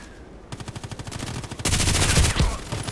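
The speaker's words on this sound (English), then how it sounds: "I need to do all 5 rage shots with this gun" Rapid automatic fire from an RPKT machine gun in the shooter game Contract Wars, a steady burst of evenly spaced shots that grows louder and denser with heavier overlapping fire toward the end.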